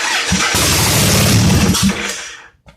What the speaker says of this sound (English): My really cheap eBay engine is actually a good engine.